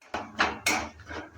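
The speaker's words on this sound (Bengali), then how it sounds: "হাফ চামচ গোটা জিরা। দেওয়ার পর হালকা একটু নেড়ে চেড়ে নিচ্ছে।" A spoon or spatula knocks and scrapes against a pan about four times while whole cumin seeds are stirred, close, dry clatter with a faint hiss beneath, no talking.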